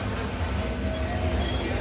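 A train at Lonavala railway station, with a loud, continuous, high-pitched wheel squeal over a constant rumble of rolling stock. No voices are heard.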